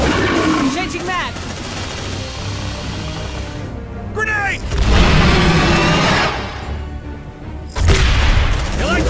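A grenade explosion and gunfire from the video game Aliens: Dark Descent, with heavy booms and rumbling blasts layered under and between bursts of battle sound, loud and dense throughout.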